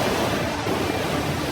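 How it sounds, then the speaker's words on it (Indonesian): Turbulent ocean waves churning in heavy seas, a steady, loud broadband roar of surf with no break and no voices. "Tapi mari kita lewati gelombang yang bergejolak ini dulu."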